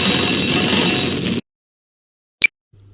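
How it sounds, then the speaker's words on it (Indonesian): Battery-driven electric bell with a coil, a loud steady ringing rattle for over a second that cuts off sharply, then a brief high ding and a low hum. "arus listrik mengalir dari baterai ke kumparan bel, sehingga bel berbunyi."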